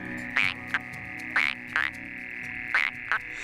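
Frogs and toads croak at a pond in repeated short bursts, paired calls recurring about every second and a half, close and clear over a low steady background hum.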